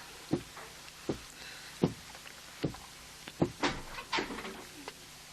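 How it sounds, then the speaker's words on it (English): A door is opened in a classroom setting with a series of distinct wooden clunks and knocks at irregular intervals, close and fairly loud against a quiet background. "Please open the door."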